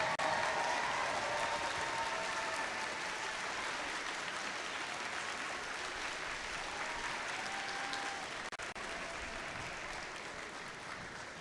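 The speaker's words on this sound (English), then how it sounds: "please, Dean's List nominees, please stand now and let's give them a huge round of applause" Dean's List nominees stand to sustained crowd applause at the 2025 PCH District Gwinnett event, a dense, steady clapping that fills the room from start to finish and eases only slightly toward the end.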